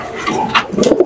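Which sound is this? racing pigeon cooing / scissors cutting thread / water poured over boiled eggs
racing pigeon cooing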